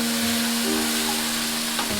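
Dhokar dalna masala being sautéed in a pan, a loud, dense, continuous sizzle and crackle of frying spices close up, with a steady tonal hum underneath and no talking.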